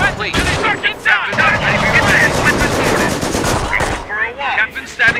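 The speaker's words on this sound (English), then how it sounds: "Heavy enemy fire on our position." Dense machine-gun fire and booming artillery rattle through a Company of Heroes battle at Arnhem during Operation Market Garden, loud and continuous with rapid bursts, under shouted soldier voices and radio chatter.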